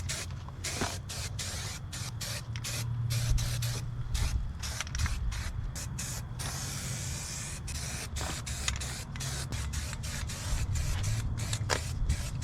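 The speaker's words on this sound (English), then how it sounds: "I'm going to hit the whole frame with this undercoat" Undercoating sprayed over a GMC Sonoma truck frame outdoors, a steady close hissing spray broken by short stops and restarts of the nozzle throughout.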